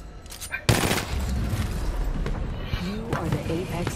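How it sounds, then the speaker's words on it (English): Rapid bursts of video game gunfire crack in at once and keep rattling densely for several seconds, loud and close, with a voice talking briefly near the end. "they're all shooting at you only"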